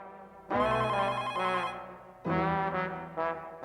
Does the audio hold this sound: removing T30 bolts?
no